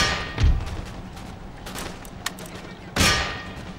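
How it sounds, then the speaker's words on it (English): Musket volleys from troops in the strategy game Empire: Total War, two heavy broadband bursts about two and a half seconds apart, with a few sharper cracks in between, loud and close with no talk. "now hopefully we are going to be able to shoot them up."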